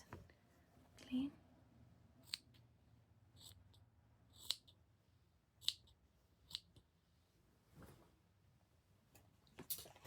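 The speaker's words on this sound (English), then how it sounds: "Let me trim that so that it's nice and clean." Scissors trimming close up in a quiet room, several sharp isolated snips spaced irregularly over the clip, faint and intimate, with soft whispered talk around them.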